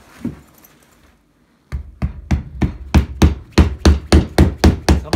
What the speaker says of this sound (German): Den Rest machen wir jetzt mit dem Schleppeisen.